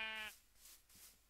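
A single short sheep bleat in Minecraft, clear and fairly quiet, followed by faint game noise.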